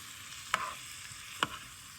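Mushrooms for a shrimp and broccoli Alfredo cook quietly in a pan under a soft, faint sizzle, broken by two brief spoon scrapes as they are stirred.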